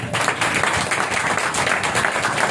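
An audience at a church sermon breaks into loud, close, continuous clapping that holds steady from start to finish, with a few voices buried beneath it.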